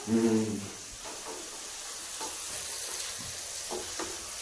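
A ladle stirs a papad vegetable curry frying in a pan, giving a soft steady sizzle and hiss with a few faint scraping strokes, after a brief low voice at the start.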